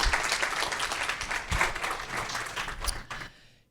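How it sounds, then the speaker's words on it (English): Audience applause for the panelists at a food-is-medicine oncology care symposium, a fairly faint, steady patter of clapping that thins out and stops near the end. "let's just give one more round of applause and thank you to all of our panelists"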